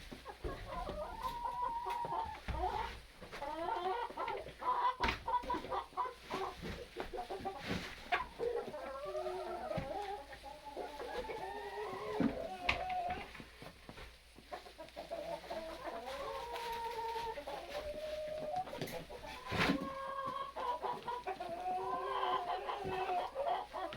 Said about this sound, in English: So, this is my sick hen here.